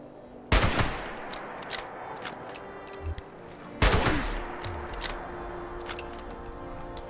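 Gunfire in Fallout 76 aimed at super mutants: two loud, sharp shots with long reverberant tails, a few seconds apart, followed by quieter scattered impacts and game noises.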